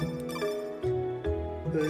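A phone-call ringtone in the video game CrossCode chimes in a repeating electronic melody of short tonal notes, clear and up front, with no talk over it.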